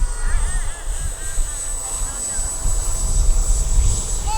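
Arrows RC Marlin model airplane engine whines steadily at takeoff into the wind, a thin high-pitched tone held throughout over wind noise and low rumble.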